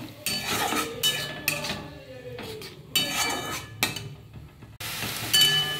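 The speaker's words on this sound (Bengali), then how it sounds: "এর মধ্যে আমি ভিজিয়ে রাখা মশলাটা দিয়ে দেবো। দিয়ে ভালো করে কষিয়ে নেব।" Soaked spice paste for a katla fish curry is stir-fried in a pan: a spoon or spatula scrapes and clinks against the metal in bursts separated by brief pauses, with a light sizzle underneath and no talking.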